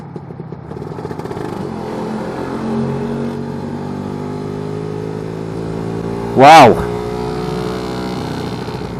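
A Lambretta scooter fitted with a BGM Pro MZ30 exhaust drones steadily at speed, rising in pitch as the engine revs, with one loud close whoosh of passing wind or traffic near the end; a voice exclaims briefly.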